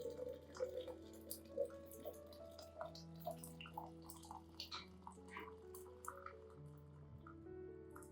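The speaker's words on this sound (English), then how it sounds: "Pour 2 liters of boiling water into a bottle." Boiling water is poured into a bottle, a faint trickling and gurgling with rising tones as the bottle fills, quiet and alone.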